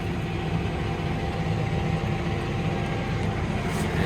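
Fendt tractor engine holds a steady drone at 1800 RPM on cruise control while working a field, a constant low rumble heard from the cab with no speech.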